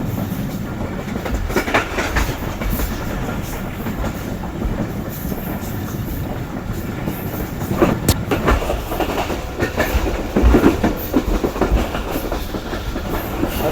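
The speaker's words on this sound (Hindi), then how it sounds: "अच्छी स्पीड पर ट्रेन हमारी चलती कूदती आगे जा रही है।" The Rehman Baba Express, with its economy-class cars, rolls along the rails at good speed, a steady rumble with rhythmic clickety-clack from the wheels that grows louder toward the end, no voices.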